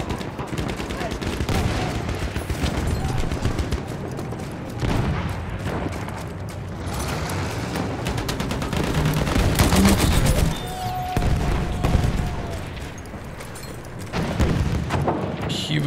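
Rapid gunfire from the Frontlines shooter, including the Model 10A gun, crackles in dense bursts and sustained volleys with booms mixed in, loud and continuous throughout the match.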